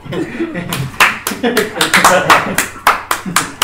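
A small group of friends claps at a winter outfit birthday party drinking session, sharp uneven hand claps close by, mixed with lively talking and chuckles.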